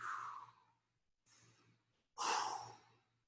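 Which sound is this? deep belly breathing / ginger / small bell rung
deep belly breathing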